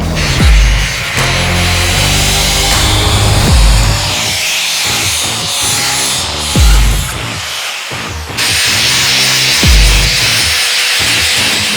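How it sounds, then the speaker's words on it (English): A power grinder works on a metal sculpture part in a foundry, producing a loud, continuous abrasive rasp that surges and eases in repeated passes, with a steady droning tone underneath. "I'm just gonna grind, baby."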